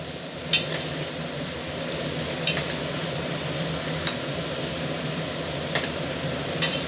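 Green chilies and mint sauté in hot oil for Pondicherry-style mutton biryani, with a steady low sizzle and a few sharp clicks of a utensil against the pan at regular intervals.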